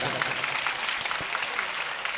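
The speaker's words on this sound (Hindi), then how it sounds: "अगर आप मन से सुनना चाहते हैं तो एक बार ताली बजाकर मुझे बताएं" A live audience at a Hindi kavi sammelan poetry recital in Deogarh claps together in a steady, dense burst that fills the whole stretch at an even loudness, with no voices on top.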